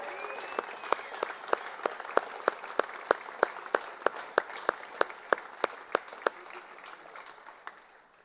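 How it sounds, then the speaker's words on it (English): Audience applause at a high school hall of honor induction ceremony honoring a 1975 football team, with sharp individual claps standing out over a steady wash of clapping that tapers off toward the end. "Let's give it a big round of applause and congratulations to the 1975 LP Cavs football team."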